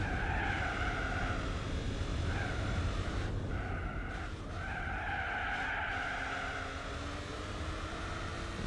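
TVR Tamora race car in Gran Turismo 4 holding a steady engine drone with tire skidding over continuous game audio, loud and sustained throughout.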